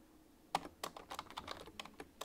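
A password is typed on a computer keyboard: a quiet run of light, close key clicks at an uneven, quick pace with no other sound.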